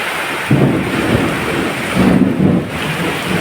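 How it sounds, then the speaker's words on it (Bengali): A Kalbaishakhi thunderstorm in Bhola brings heavy rain: a loud, steady downpour hisses throughout while low rolling thunder swells twice, once early and again in a longer rumble near the end. "বৃষ্টি ফোটা দেখতে পাচ্ছেন আহ বৃষ্টির ফোটাগুলো খুব ভালোই লাগতেছে আমার কাছে"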